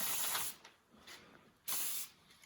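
Chrome spray paint hisses from an aerosol can in a garage in three short bursts, each a soft, breathy rush with brief quiet gaps between, fairly close and with no talking.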